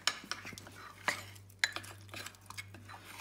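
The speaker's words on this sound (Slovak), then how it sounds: "Ja toto premiešame." A spoon scraping and clinking against a bowl while batter for a Pavlova cake is stirred, a run of irregular light knocks and scrapes over a low steady hum.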